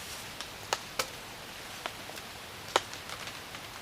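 Firewood being split by batoning at a backcountry bivouac campsite after rain, heard as a few sharp, distant cracks and knocks spaced irregularly over a quiet outdoor background.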